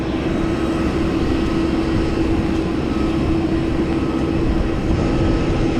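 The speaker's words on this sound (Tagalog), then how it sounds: "yung aeroplano namin papuntang Cebu, Mactan Cebu. Maliit siya pero we'll see" A small Cebu Pacific passenger airplane bound for Mactan Cebu, heard as a steady loud engine drone with a constant hum, unbroken and close, with no talking.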